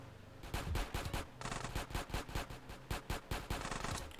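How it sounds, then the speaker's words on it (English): An AK assault rifle fires rapid automatic bursts in GTA San Andreas, a dense run of sharp cracks from close by, with brief gaps between volleys and no voices. "Ooh, an assault rifle? An AK."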